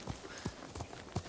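Four soft, evenly spaced horse hoofbeats in the video game Ghost of Tsushima thud close by in a steady clip-clop rhythm over a quiet background.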